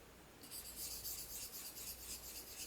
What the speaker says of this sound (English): I'm going to use the chisel tip just because filling this whole area.